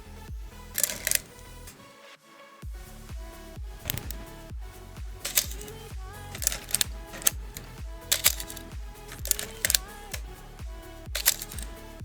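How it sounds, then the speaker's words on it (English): An old SLR film camera with no film inside fires its shutter repeatedly, a series of sharp mechanical clacks and winding clicks in uneven rhythm, close and fairly loud with no speech. "An old SLR camera."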